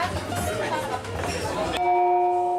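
A gong rings out to signal the start of a speed dating session, a sharp strike with a long sustained resonant tone that follows a room full of murmuring chatter.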